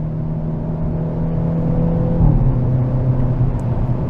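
A 2022 Hyundai Elantra N accelerating on a race track through a long turn, a steady loud engine drone heard from inside the car, its pitch dropping briefly as it shifts before pulling on again.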